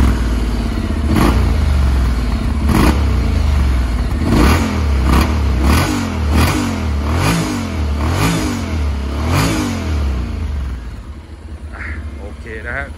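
A grey 2017 Yamaha XSR 900 motorcycle engine idles loudly and is blipped through a series of sharp, evenly spaced revs, each rising and falling quickly, before settling back to a steady idle near the end.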